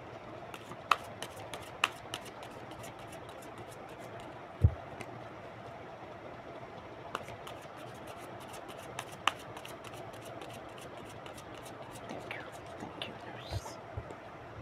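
Tarot cards being shuffled by hand for a reading, a soft continuous riffle and slide of cards with sharp snaps and taps, one louder thump partway through, quiet and close under faint background hiss.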